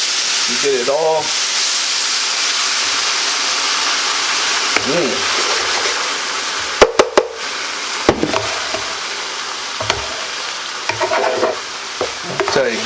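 Guinness beer is poured into a hot pot of Irish stew, setting off a loud, steady sizzle and hiss with bursts of stirring and clanks, while a person talks briefly.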